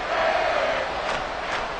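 A football stadium crowd roars loudly and continuously at fever pitch, a dense, sustained wall of cheering with no clear individual voices.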